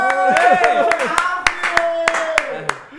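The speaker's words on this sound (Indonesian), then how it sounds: "tepuk tepuk tangan." A few people in a podcast studio clapping their hands, sharp irregular claps over roughly three seconds, mixed with laughing and excited voices.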